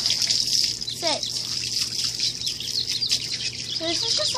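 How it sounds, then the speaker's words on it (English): A bathroom tap runs steadily during a dog's bath, a continuous close hiss of running water with brief chirpy squeaks and faint voices over it. "Now I'm just gonna go turn off the water"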